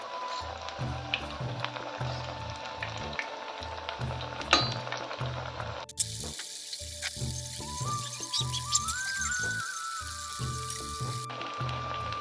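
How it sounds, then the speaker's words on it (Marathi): Food frying in oil until crispy and golden, a steady soft sizzle running throughout with occasional clinks and stirring, and no voices. "आपल्याला मस्त असे क्रिस्पी भाजून घ्यायचे तळून घ्यायचे"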